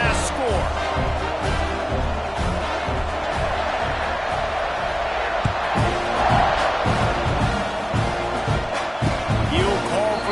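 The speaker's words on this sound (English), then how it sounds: "this crowd is buzzing after that last score" Steady crowd buzz fills an American football stadium after a score during a game, a dense roar of voices with scattered shouts and thumps, constant and near throughout, with talk mixed in.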